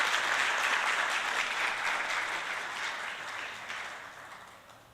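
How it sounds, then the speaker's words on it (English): A crowd at a Lilongwe, Malawi end-of-project event claps for HP Plus and USAID, sustained hand clapping that starts full and gradually fades toward the end. "allow me to request you to clap hands for HP Plus and USAID"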